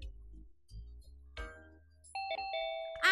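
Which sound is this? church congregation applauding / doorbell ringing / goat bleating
doorbell ringing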